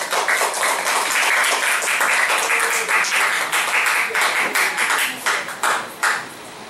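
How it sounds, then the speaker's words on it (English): An audience at a political science class debate gives the debaters a round of applause, loud, close and sustained for about five seconds, then breaking into a few scattered final claps. "Let us give them a round of applause."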